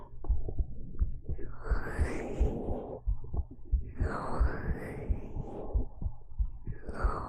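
A heartbeat used as an ASMR trigger, with soft, close thumps repeating in a steady slow rhythm under a whooshing, breathy layer that swells in pulses. It is heard alone, with no talking.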